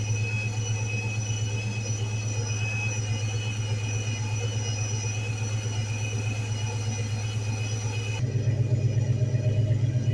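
A supercharged (Procharger) 2004 Ford Mustang Mach 1 engine idling steadily with a deep, even rumble and constant whine, close and loud, its tone shifting slightly near the end.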